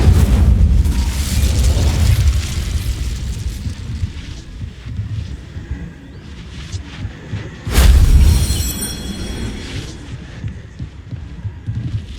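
The Incendio fire spell cast in Hogwarts Legacy, a sudden loud whooshing burst partway through, set against a rumbling game soundscape with muffled booms and low throbbing.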